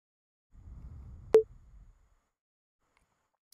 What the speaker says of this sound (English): we heard a little sine wave ping there